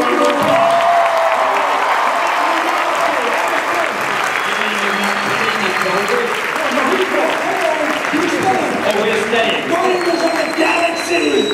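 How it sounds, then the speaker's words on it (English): A large convention crowd at Phoenix Comicon 2014 gives a loud, sustained round of applause with scattered cheers and whoops, continuous dense clapping filling the hall. "Give him a round of applause."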